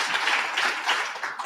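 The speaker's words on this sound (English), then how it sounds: "y'all can clap for that" An audience at a CityLit Festival event on The 1619 Project applauds in a dense, steady wash of clapping that fills the short stretch without pause.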